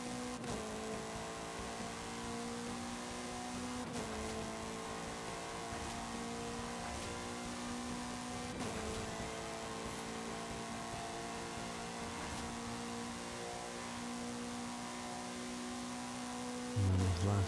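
A race car engine in Forza Horizon 5 holds a steady high-revving drone near the redline, staying loud and constant throughout with brief shift dips every few seconds.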